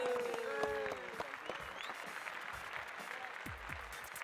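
A crowd applauds after a goal during a World Cup special football challenge, scattered clapping that carries on steadily under a voice in the background.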